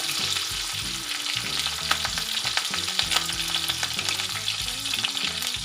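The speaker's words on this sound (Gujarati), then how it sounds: "આપણે એમાં જીરું નાખીશું. જીરું, એક લાલ મરચું નાખીશું," Cumin seeds and a red chilli sizzle in hot oil for home-style black chickpea curry, a loud, continuous close crackle with a steady tonal background underneath.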